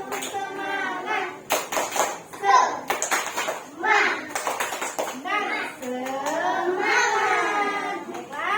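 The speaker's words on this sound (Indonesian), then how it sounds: "mari kita tepuk semangat dulu" A class of schoolchildren performs a rhythmic spirit clap, with bursts of patterned hand claps mixed with their chanted voices, close and lively.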